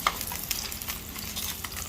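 Butter frying in a pan gives a soft, crackly sizzle with scattered small pops and stirring scrapes, close and fairly quiet, with no talking.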